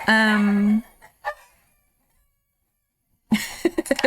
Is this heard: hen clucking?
yes